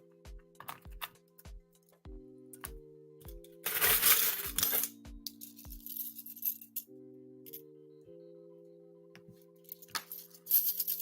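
Coins, including 1982 pennies from a collection, handled and clinking on a hard surface, a string of sharp metallic chinks and rattles with a brief louder shuffle, close and clear.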